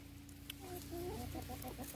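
Soft, low clucking from chickens eating pumpkin, a few short murmuring calls over a steady background hum, faint and close.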